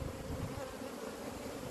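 Honeybees on a hive frame of hatching brood make a dense, steady buzz, faint and continuous without pauses or voices.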